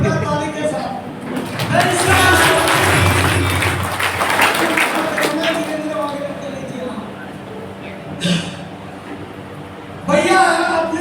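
Loud applause from the crowd at a marketing company meeting in Kukshi, Madhya Pradesh, a dense burst of clapping over the first half. It trails off under a speaker's voice, with a brief flare of claps later on.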